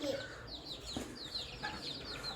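Young fighting-breed chickens raised near Tambaram chirp and cluck in quick, high overlapping calls, close by, with a brief thump partway through and soft room noise beneath.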